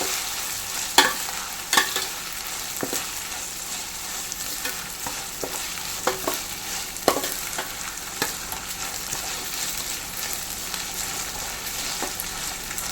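Green chilli, ginger and garlic sizzle and fry in hot oil for a Kerala-style dates pickle, with a steady crackle broken by several sharp scrapes and knocks of a spoon stirring the pan, close and moderately loud, no talking.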